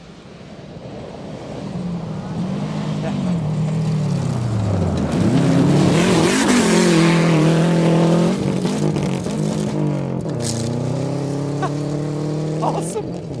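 Rally car at speed on a stage of the 2012 Olympus Rally, engine note rising and falling through gear changes as it approaches, roars loudly past nearby and pulls away, with spectators' voices over it.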